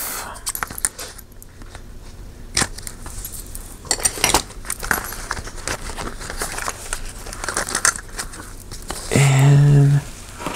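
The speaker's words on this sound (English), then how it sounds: "Finally, take the packaging off." Plastic packaging being pulled and crinkled off a personal rings planner, with scattered clicks and rustles building to a louder, sustained crackle near the end.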